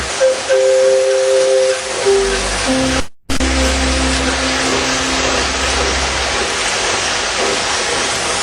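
Steam locomotive whistle blowing in sustained tonal blasts with heavy hissing steam, loud and close, briefly cutting out before a continuing steam roar.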